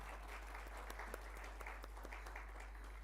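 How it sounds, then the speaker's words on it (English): Steady applause from an audience at an International Coffee Day 2025 function greets Rajesh Agarwal, the newly appointed Commerce Secretary, with a dense, even patter of many clapping hands and a few sharper claps standing out, all at a fairly soft level. "So a big round of applause for him."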